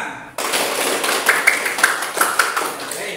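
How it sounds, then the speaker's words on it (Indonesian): Participants in a teacher training class breaking into sustained hand clapping at the end of a clap game, a dense, lively burst of many hands that starts abruptly and continues with scattered sharper claps. "tepuk tangan."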